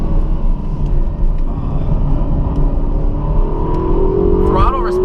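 A Ferrari California T in sport mode accelerates hard, its engine a loud, steady rumble close up that builds toward a rising rev near the end, with a voice talking over it.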